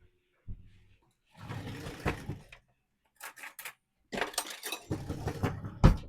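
Metal fork and other cutlery rattled and clinked while being fetched from a kitchen drawer, with scattered jangling bursts, a short clink, and a sharp final clatter.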